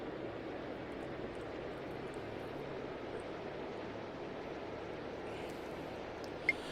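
In the Tower!3D Pro simulation of Munich airport, a Dolomiti airliner takes off with a steady, fairly faint jet roar that holds even throughout, broken only by a tiny click near the end.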